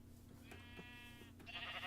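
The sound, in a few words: sheep bleating in the video game Minecraft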